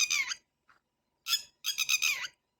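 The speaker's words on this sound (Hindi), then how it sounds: "टिटहरी बहुत शोर मचाने वाला पक्षी है" A red-wattled lapwing gives loud, shrill, repeated calls in three sharp bursts, the last a rapid stuttering series, with brief silences between.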